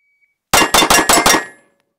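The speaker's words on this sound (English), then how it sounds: "Good weapons manipulation, driving that gun down for that second shot there" Five sharp pistol shots fired in quick succession during a self-defense shooting drill, loud and close, each crack evenly spaced and followed by a short ringing decay into silence.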